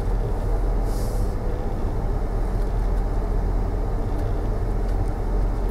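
A 2017 Ford Super Duty pickup reverses slowly with a trailer, its engine a steady low rumble with a brief hiss early on, no speech.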